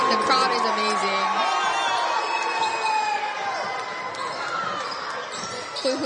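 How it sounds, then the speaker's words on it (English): Loud crowd at a high school boys basketball senior night game between the Hilo Vikings and KS Hawaii Warriors, cheering and whooping steadily throughout with ball bounces mixed in. "Senior night, the crowd is amazing."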